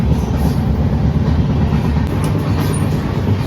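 A superfast express train from Guwahati to Kolkata rumbles along, heard from inside the carriage as a loud, steady low-pitched roll with faint rhythmic wheel clatter and no talk.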